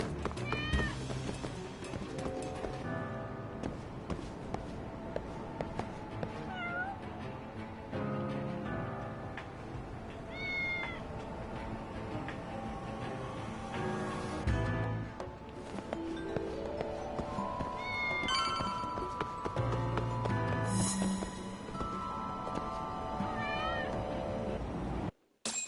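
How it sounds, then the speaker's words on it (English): A group of cats in the video game Lost Judgment meow repeatedly in short rising calls over continuous game music and ambient street sound, scattered through the scene at moderate volume. "Oh, there are cats over there."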